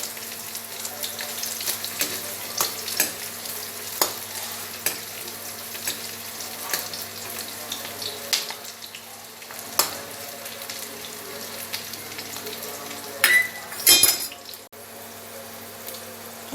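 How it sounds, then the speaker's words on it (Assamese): Onions and chillies fry in mustard oil with panch phoron in a kadai, a soft steady sizzle under scattered stirring clicks, then a brief burst of louder scraping and clatter near the end. "এইখিনি পিঁয়াজখিনি অকণমান ফ্ৰাই হৈছে"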